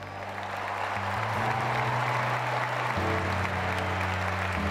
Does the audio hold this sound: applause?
yes